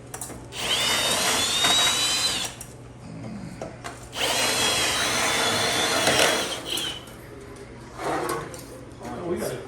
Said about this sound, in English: We got to get a new drill.